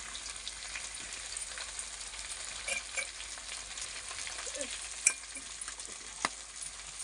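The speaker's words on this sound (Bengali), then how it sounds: "এটাকে ভালোভাবে নেড়ে ছেড়ে পরিমাণ মতো করে নেব।" Spices, including chilli powder, sizzle and fry steadily in a pan for biryani while a spoon stirs them through, with a few sharper scrapes and clicks over the continuous hiss. No one speaks.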